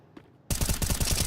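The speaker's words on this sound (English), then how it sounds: "That's a great spray long range from Zemo" A long-range automatic weapon spray in a Counter-Strike pro league match erupts suddenly after near silence, a loud rapid burst of gunshots sustained to the end.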